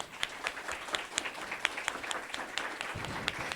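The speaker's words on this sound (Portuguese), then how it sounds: "pedir uma salva de palmas a todos os nossos participantes" An audience applauds participants at the close of a manga talk at a cultural venue, with scattered distinct claps in a moderate, uneven rhythm, fairly soft and slightly distant.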